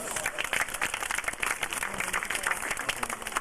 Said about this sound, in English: how about you folks out in the audience, if you fake her out by clapping your hands?